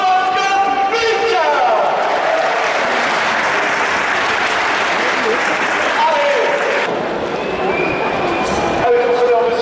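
A stadium crowd at the Stade Malherbe in Caen applauds the mascot Vic with loud, continuous clapping and cheering that fills the whole stretch, with a brief tonal sound over it partway through.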